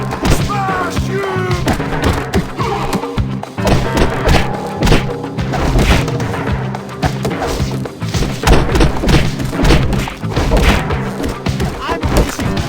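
Fist-fight in the video game Bully, with heavy punches, thuds and smashing impacts landing in quick succession, loud and close, mixed with shouting voices and game music.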